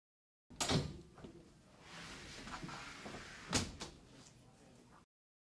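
A hospital patient room door swings shut with a sharp closing thump, followed by a quieter handling sound and a second knock-like latch impact later, heard close in a small indoor space without talk.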